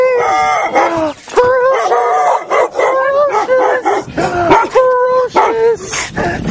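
Several puppies bark and yip close by in rapid, overlapping bursts, with high-pitched whining and howl-like cries mixed in, barely pausing.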